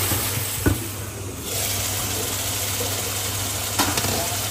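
Local prawns cooking down with spices in a pan give a steady, close sizzle with a couple of sharp clinks of a utensil against the pan.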